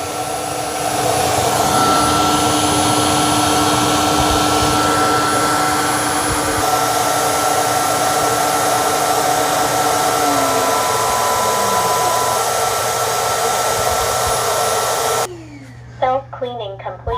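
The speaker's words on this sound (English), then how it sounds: "it's going to put a bunch of solution on the roller and then it's going to suck it up" A Eureka RapidWash cordless wet/dry vacuum mop running its self-cleaning cycle, a loud, steady motor whine with suction drawing up cleaning solution, ending abruptly as the motor shuts off and some light clicks follow.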